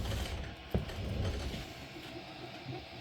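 Sovol SV06 Plus 3D printer running a test print, giving off a steady mechanical whir and soft ratcheting clicks from its moving parts, with one brief sharp knock near the start, close and moderately quiet.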